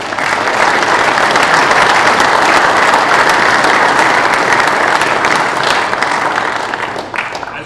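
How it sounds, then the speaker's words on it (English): Loud, sustained applause from a crowd at a PGA section fall meeting, dense and continuous, easing off slightly near the end. "Please join me with a round of applause for these ladies and gentlemen."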